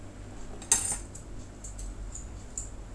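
Utensils clinking against a dish while stirring pansit palabok, a few sharp metallic taps and scrapes over a quiet room background, close and brief.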